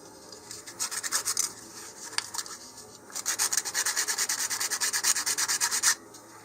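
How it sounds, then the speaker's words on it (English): Sandpaper rubbed by hand along the root edges of a LOC Precision LOC1 Xeno model rocket fin, close up, in two runs of quick rhythmic back-and-forth scratchy strokes separated by a short pause. "you may just have to take a little piece of sandpaper and do this"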